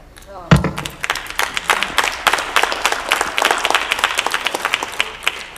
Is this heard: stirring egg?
no